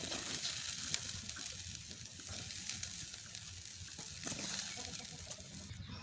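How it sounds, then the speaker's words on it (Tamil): Food frying in a pan on a family New Year celebration cooking setup, with a steady close sizzle and occasional stirring scrapes running continuously, no talking. "நாங்கள் இதை போட்டதுக்குள்ள நல்லபடியாக கிண்டி விடுவோம்"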